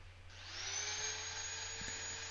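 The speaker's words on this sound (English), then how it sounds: "when you're turning with the lathe running" Wood lathe spinning a pecan bowl blank, a steady high whine with a rising tone that settles into a continuous hum, close and alone with no talk.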